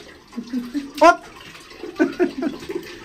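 Muddy water sloshing and splashing as clothes are washed by hand in a tub. Someone speaks over the brief wet splashes.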